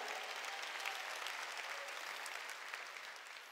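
A church congregation claps steadily at a Jesus-centred church service, dense continuous applause heard from a distance at low level, slowly tapering toward the end.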